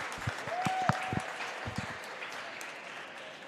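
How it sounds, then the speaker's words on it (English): Crowd at a diving championship meet cheering and applauding, a steady wash of clapping with a whistle and shouts rising over it, loud and close. "let's give them a big cheer"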